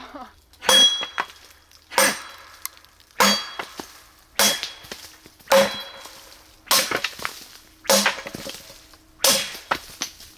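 A thin-bladed cheap Amazon machete strikes a stone repeatedly, giving eight loud, sharp metallic clanks at roughly one-second intervals, each ringing briefly before fading into near silence.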